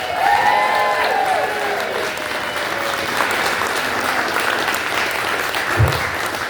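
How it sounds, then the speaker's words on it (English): A pub gig audience at a brewery claps steadily in a dense, continuous wash, with cheers and whoops rising over it and a single low thump near the end, loud and close throughout. "Let's do the clapping, let's do the stomping, let's throw some whoops and yay."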